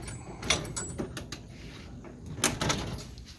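A drawer of a Husky 61-inch ten-drawer steel tool chest slides open and shut, with a few soft thuds and rolling rumbles on its runners, quiet and close.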